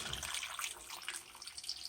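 Tap water runs steadily into a stew pot of beef stew for about two seconds, a close, continuous splashing stream with no talk over it.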